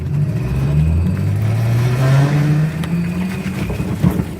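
An Elf solar electric velomobile pulls away down a street with a loud, close, rising electric whine that climbs steadily in pitch as it speeds up, over rolling road noise.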